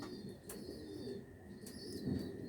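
A full-grown homing pigeon hen coos softly nearby, low murmuring tones over steady background noise with a couple of faint higher chirps.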